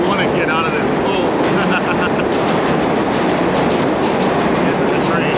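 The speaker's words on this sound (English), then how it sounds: "This is a train." A train runs along its rails with a dense, steady roar of wheel and track noise throughout, loud and close as if heard from on board, with faint rhythmic clatter and no clear talk.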